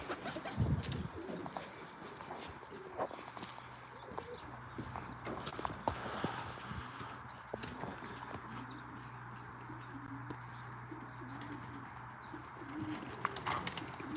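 Racing pigeons let out of their loft in the morning, with faint cooing, flapping wings and scattered clicks and knocks over a quiet outdoor background and a steady low hum, with no voices.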